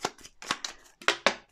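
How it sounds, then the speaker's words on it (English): Close riffle-and-tap of a tarot and Lenormand deck being shuffled by hand, a handful of quick papery bursts with a short pause before two sharper snaps at the end. "let's just give it another little shuffle."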